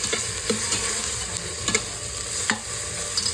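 Tomato with ground coriander, chilli, ginger, garlic and coconut sizzles steadily in a pan, with a spoon stirring and tapping against the metal several times; no talking.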